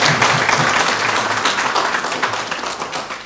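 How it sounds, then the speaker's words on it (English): Audience applause during an address to a training batch at an agricultural research institute, a full steady round of clapping from a seated group that slowly fades toward the end. "you should take credit for that and clap for yourself"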